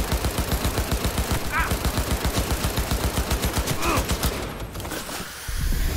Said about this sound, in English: Somebody else shooting me from the sides, man.